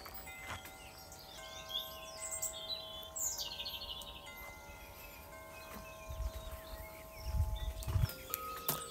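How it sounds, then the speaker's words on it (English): Birds chirp and sing faintly in the distance over a quiet outdoor cottage garden background, with a few soft low thumps near the end. "Listen to the birds singing."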